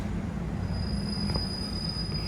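Rumbling train noise with a thin, high squeal of wheels on rails, steady and fairly close, as the carriage slows to stop at Hua Hin railway station in Thailand.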